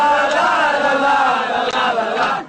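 Liverpool football fans sing a chant about Mohamed Salah, a loud, massed crowd of voices carrying a sustained melodic line, with a reverberant stadium sound and no break across the few seconds.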